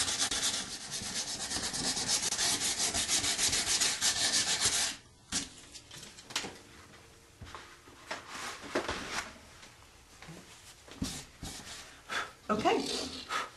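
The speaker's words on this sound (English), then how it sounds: "I'm just going to give it a really light and quick sanding." A canvas frame gets a light, quick hand sanding, heard as a close, steady rubbing scrape for about five seconds, followed by scattered brief strokes and handling noises.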